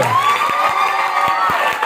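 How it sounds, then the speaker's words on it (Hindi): A crowd at a training event applauds and cheers loudly together, with rapid clapping and shouts running the whole time and a few sharp thumps standing out. "अपने एक नए शुरुआत के लिए एक बार जोरदार तालियां चिल्लाते हुए"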